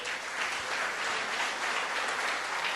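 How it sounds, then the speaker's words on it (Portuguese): A church congregation applauds during a service, a steady, even roar of many hands clapping at moderate volume with no talk over it. "Você pode aplaudir o Senhor?"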